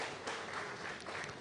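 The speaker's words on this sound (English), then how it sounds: "can we give him a round of applause as he comes?" A crowd applauds at an International Day of Forestry event for a speaker coming forward, a dense, steady patter of clapping lasting briefly without pause.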